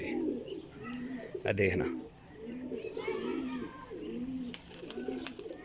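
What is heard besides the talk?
young Teddy Batera pigeons cooing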